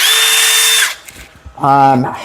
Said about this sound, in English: I think it's too low on charge to know if that's really the speed of the drill